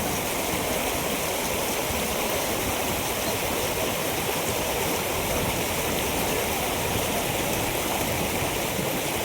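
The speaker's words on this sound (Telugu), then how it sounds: "తుఫాన్ ప్రభావంతో వాగుకు భారీగా నీరు చేరి పారుతుండటంతో" After cyclone rains, a flooded village stream rushes past in a loud, constant roar of water with no breaks and no voices.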